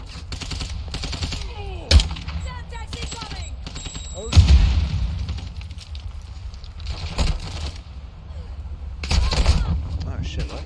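Gunfire in Call of Duty Warzone 2, with sharp loud shots and short rapid bursts scattered across the scene, a few heavy impacts, and a voice talking between them.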